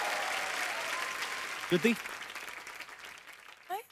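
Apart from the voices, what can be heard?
studio audience applause for Rajkummar Rao and Shruti Haasan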